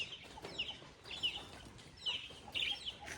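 Several laying hens cluck in short bursts at close range on a farm, with soft rustling between calls.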